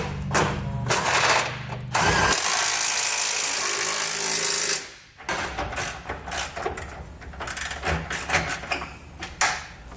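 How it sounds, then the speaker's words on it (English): A power tool drives a 19mm socket on trailer hitch bolts under a 2012 Toyota Tacoma frame, loud sustained whirring in long bursts with short pauses between runs. "tighten up the factory bolts, and I'll use a 19mm socket to tighten up the bolts in the bottom."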